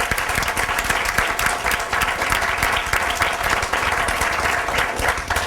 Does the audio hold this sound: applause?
yes